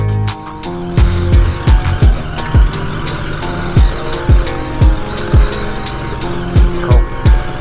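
A Husqvarna Norden 901 adventure motorcycle on an off-road track, its knobby rear tire flinging rocks. Loud engine revs rise and fall in short repeated bursts, with sharp impacts and gravel spatter close by.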